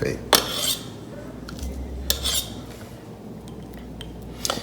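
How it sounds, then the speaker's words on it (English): A knife scrapes and clinks against a jar while banana pudding is made, with a few sharp metallic taps and short scraping strokes at close range. "I am scraping my knife on the jar."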